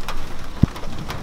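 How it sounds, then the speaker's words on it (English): Steady rain falling outdoors, a continuous soft hiss with one brief low thump partway through. "this rain's not going to stop"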